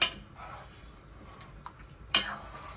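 A rougail hareng mixture of herring and tomato is stirred in a pot, with faint scraping and light clinks of a utensil against the pot, quiet apart from a sharper knock near the start and another near the end.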